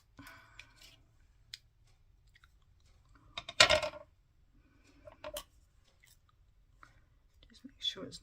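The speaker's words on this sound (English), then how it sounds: "Last couple of snips." Scissors make a few short snips through layered card at close range, quiet and spaced out, with one louder crunchy cut in the middle and soft breathy voice sounds around them.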